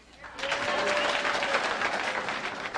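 A Las Vegas comedy-show audience applauds, a full, even roar of clapping that builds quickly and holds steady, with a voice briefly audible at the start.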